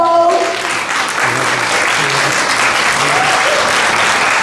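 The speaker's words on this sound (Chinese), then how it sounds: "是不是我们要听到一个热情的掌声加欢呼声呢？" Audience applause at a Michelin Guide announcement event for Taipei and Taichung, a loud dense burst of clapping that sustains evenly, with a voice speaking briefly at the start.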